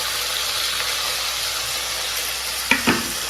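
Browned onions with mint, coriander and tomato sauté in a pan with a constant close sizzle, broken near the end by two sharp clinks of a spoon against the vessel.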